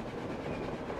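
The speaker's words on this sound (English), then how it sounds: "No, you're not imagining it. That is a train." A big train passes on the surface in the video game Metro Exodus, a steady low rumbling roll with a faint clatter, heard alone with no voices.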